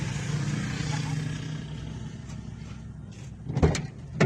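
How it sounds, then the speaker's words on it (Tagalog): A car door is opened from the inside, a short clunk and rattle near the end that rises above a steady rumble of an idling vehicle and outdoor background. "Ako na magbubukas ng pinto sa loob."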